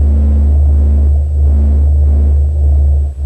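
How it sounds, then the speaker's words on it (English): Sped-up recording of the sun's pressure oscillations, a steady low droning hum with a continuous rumbling tone and slow gentle swells, heard alone. "This is the sound of the sun singing."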